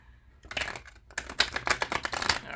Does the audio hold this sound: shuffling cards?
yes